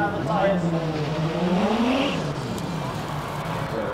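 A BMW M3 GTR race car climbing a hillclimb course, its engine loud and close, rising through the revs then easing as it pulls away, with a commentator talking over it.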